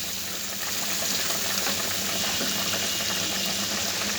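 Prawns with chilli powder and cumin fry in hot oil in a pumpkin curry, giving a steady, even sizzle that keeps going the whole time with no talk over it.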